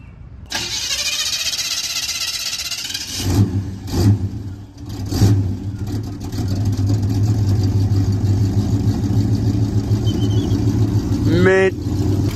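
A Chevrolet El Camino with a 350 V8 and mild cam cranks over, fires up and settles into a loud, steady rumbling idle close by after a couple of revs.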